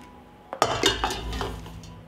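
Glass jars clink and knock as they are set one after another on a cloth in the bottom of a pot, several sharp, close, ringing taps over a short burst.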